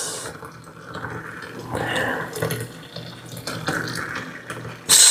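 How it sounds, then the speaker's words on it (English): Boiling water pours from a kettle onto dry pigeon peas dusted with baking powder, a steady splashing gush with bubbling and fizzing that swells and fades over several seconds, ending in a sharper clink. "this is some boiling water"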